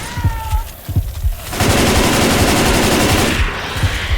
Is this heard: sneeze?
no